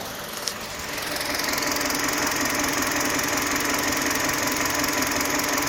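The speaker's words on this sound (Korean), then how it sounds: "네, 이어서 K5 차량 엔진 소리 한번 들려드리겠습니다." A Kia K5 LPI sedan's LPG engine idles evenly throughout, a constant low mechanical drone with a faint rattle, close by and without speech.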